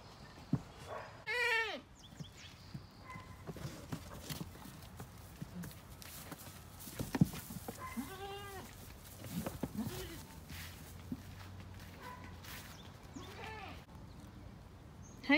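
Goats bleating on a farm in Maine, several loud nearby wavering bleats scattered through the scene with quieter rustling, shuffling and barnyard noise between them, while a person talks softly.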